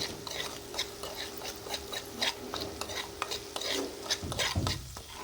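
Spiced potatoes and peas frying for samosa filling, with a continuous sizzle broken by repeated scraping and stirring clicks from a utensil in the pan, and a heavier scrape near the end, with no voices.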